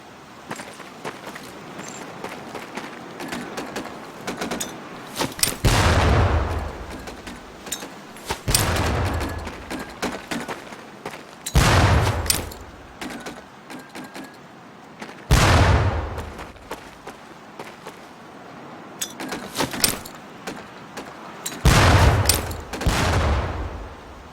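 Training grenades thrown at barrels in the video game Medal of Honor: Pacific Assault, each landing in a loud, booming blast; six heavy explosions arrive spaced a few seconds apart, with quieter ambient noise between them.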